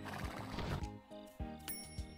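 A horse whinnies in the farming video game Story of Seasons: Pioneers of Olive Town, a clear neigh with harmonic layers heard alongside light background game music and sound effects.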